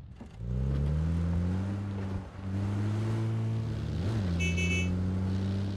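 Enemy car driving in PUBG on the Erangel map: a loud, steady engine drone close by that dips briefly, then shifts pitch as the vehicle slows.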